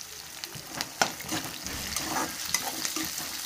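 White garlic frying in a pan for a spinach onion-chili dish, a steady close sizzle with bursts of stirring and spatula scrapes, no voices.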